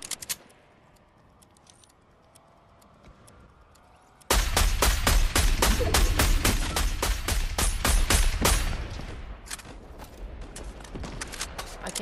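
An automatic sniper rifle in a video game fires a rapid, loud stream of evenly spaced shots for several seconds after a quiet stretch, then the firing thins out into sparser shots.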